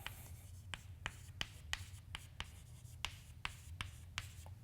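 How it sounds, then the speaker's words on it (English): Pen or chalk writing by hand on a board during a lecture, a series of sharp regular taps and short strokes, close and clear over a low steady background hum, with no talking. "And we write them down."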